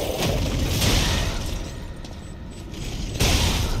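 Bombs set in the ground exploding in the video game Lies of P, a continuous rumbling blast with booming swells, loud and close, and a fresh burst near the end.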